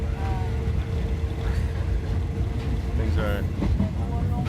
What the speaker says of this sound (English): we're on this train here